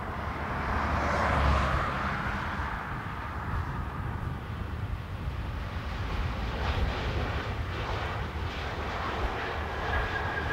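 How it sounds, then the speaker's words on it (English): An Aer Lingus Airbus A320neo arriving from Barcelona at Dublin Airport in a crosswind, a steady broad engine roar close by that swells slightly early on and holds loud throughout. "A320neo, Aer Lingus from Barcelona."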